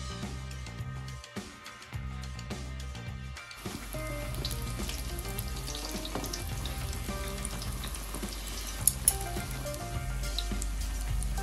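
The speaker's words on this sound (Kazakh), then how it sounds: "ыдысымызға майымызды құйып, осылайша пісіретін боламыз" Belyashi fry in hot oil in a pan, a steady crackling sizzle that starts sparse and grows denser and louder, heard up close with no talking.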